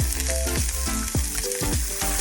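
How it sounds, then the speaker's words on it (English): Onions, carrots and celery stir-fry in olive oil in a slightly too-hot pan: a loud, close hiss of sizzling with repeated scraping stirs and knocks, no voices. "And you just sort of stir fry it until it's tender and soft"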